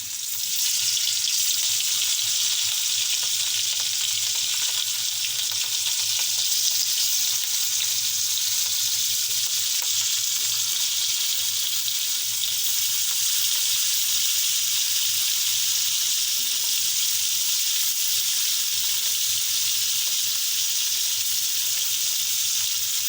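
Coated food deep-fries in hot oil with a loud, continuous hissing sizzle that holds steady and close for over twenty seconds, with no talking.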